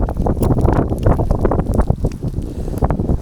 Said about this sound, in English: It's windy! It's really windy!